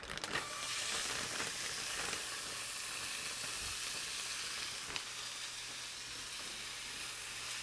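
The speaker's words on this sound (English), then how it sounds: "we're going to make sure our pan is hot before we add our meat" Chicken pieces sizzle steadily in a hot pan with no oil, a constant close frying hiss with a few faint clicks of movement and no talking.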